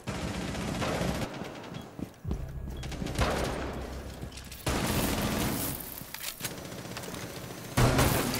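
Rapid automatic gunfire in the tactical shooter Rainbow Six Siege, loud bursts and sustained fusillades repeating across the whole stretch with short gaps between volleys, no talking.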